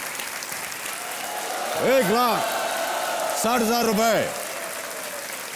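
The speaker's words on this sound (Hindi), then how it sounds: "तालियां बजती रहें" The studio audience of the Hindi quiz show Kaun Banega Crorepati applauds steadily after a contestant wins a prize. The clapping runs throughout, beneath a host's voice and swooping musical stings.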